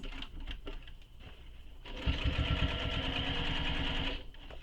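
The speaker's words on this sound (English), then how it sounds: "So I'm just back stitching here" A sewing machine back stitching a vinyl shoulder bag, a short burst of rapid, even mechanical needle chatter that starts after a quiet pause and runs steadily for about two seconds, close and fairly loud.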